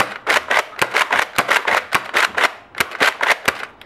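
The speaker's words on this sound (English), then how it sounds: "We're going to go ahead and load it up into the blaster, prime it and fire it" Nerf Rebelle Rapid Glow toy blaster firing foam darts in rapid succession, a quick series of about a dozen sharp close snapping pops with priming clacks between them.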